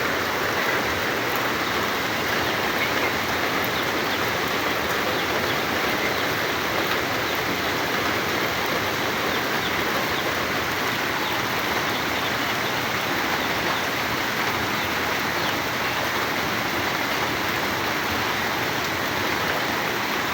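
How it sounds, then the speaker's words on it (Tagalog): Heavy rain pours down outdoors in a dense, unbroken roar that stays loud and constant, with no voices heard. "Ang lakas ng ulan."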